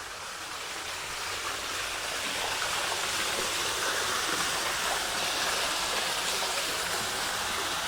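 A waterfall at a cafe in San Kamphaeng, Chiang Mai, produces a continuous, close rushing roar of falling water that holds steady throughout with no talking.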